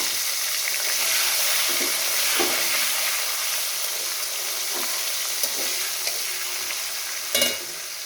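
Tomato and green chili sizzle in oil after a cumin tempering, a continuous hissing fry with faint spatters and a few light utensil taps near the end.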